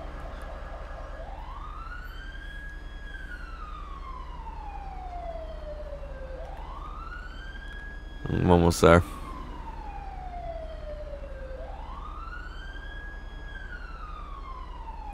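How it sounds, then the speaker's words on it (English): Police car siren in a video game wails in slow rising and falling sweeps, repeating steadily in the background, with a short burst of someone speaking midway. "siren has just been on the whole time"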